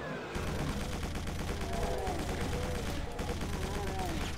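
Chaingunners firing in a Doom mod, Whispers of Satan: dense, continuous rattling bursts of hitscan gunfire mixed with game music, loud and unbroken for several seconds.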